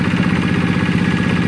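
A tractor engine runs in a rice field near the Pandansimo bridge in Jogja, a loud, close, steady low rumble with a fast throbbing pulse and no pause.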